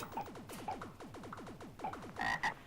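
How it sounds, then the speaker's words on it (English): Frogs in an Evercade video game give a run of rhythmic, ratcheting croaks, moderately loud, broken up by a few bright electronic game tones. "Frog! Frog! That's shooting little frogs."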